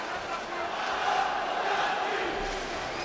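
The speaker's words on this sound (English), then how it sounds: "A chant for Kownacki by the crowd." Crowd in a boxing arena during a heavyweight bout chanting a fighter's name, a dense sustained roar of many voices at steady loudness for a few seconds, with no single voice standing out.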